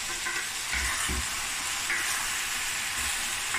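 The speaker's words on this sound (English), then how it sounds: "now I'm just going to let this fry away for about 10 to 15 minutes" Minced meat fries in a pot with a steady, close hissing sizzle throughout, with a couple of soft low thumps early on.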